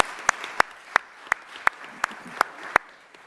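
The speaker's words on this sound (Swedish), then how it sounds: "En applåd." Members of a municipal council assembly applaud in a meeting hall, sparse and quiet clapping with several sharp louder claps standing out at a steady pace, and no voices.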